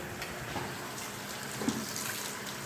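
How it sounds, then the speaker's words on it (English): Utensils being washed under a running kitchen tap while cooking chicken brandy, a steady broadband rush of water with a faint clink near the middle, no talking. "We want to wash our utensils as we go."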